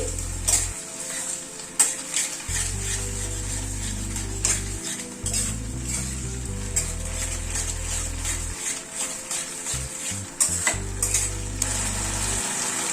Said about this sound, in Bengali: সয়া সস 1 চামচ, 4 চামচের 1 চামচ দিয়ে সব সসগুলোকে একটু মিশিয়ে নিচ্ছি।